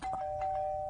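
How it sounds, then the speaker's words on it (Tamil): A neighbouring apartment's doorbell rings as one steady, sustained electronic tone with a few soft clicks layered over it, heard clearly through the wall. "அது பக்கத்து வீட்டு காலிங் பெல்றா."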